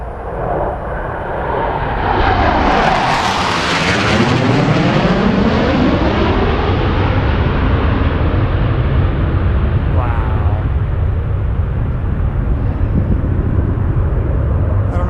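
A jet aircraft roars low right overhead, its loud engine sweep rising and falling with a sharp Doppler shift, then a steady heavy rumble trailing away as it passes, with no talk.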